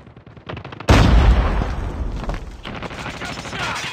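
Call of Duty Mobile gunfire erupts in a sudden loud volley after a quieter lead-in, then keeps crackling and rattling as the blasts slowly fade.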